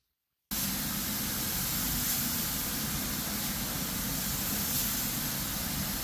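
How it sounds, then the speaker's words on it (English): Spray gun laying down ML Campbell satin lacquer, a steady, loud, continuous hiss that starts abruptly after a brief silence and holds unbroken to the end. "I will be spraying on 3 to 4 coats of this ML Campbell satin lacquer"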